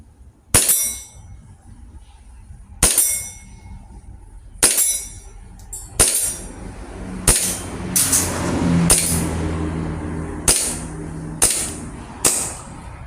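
A Bell M1911 gas BB pistol fired at a round target about 10 meters away, producing roughly ten sharp, loud cracks with metallic clangs, spaced unevenly and coming faster toward the end.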